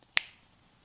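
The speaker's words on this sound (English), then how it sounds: "I'm just going to snap my fingers and it'll be done." A single sharp finger snap rings out close and crisp in an otherwise quiet garage.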